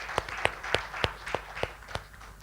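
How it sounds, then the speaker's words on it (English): Audience applause for sponsors at a university finance competition final in Uganda, heard as a few sparse, evenly spaced claps, roughly eight in a row, fairly close and isolated rather than a full crowd roar. "Can we give our partners a round of applause?"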